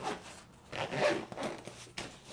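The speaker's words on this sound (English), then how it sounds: "And then we can zip up the main compartment here." A zipper closes the main compartment of a 25-liter personal-item backpack in a few quick rasping pulls, close and crisp with brief pauses between strokes, no talking.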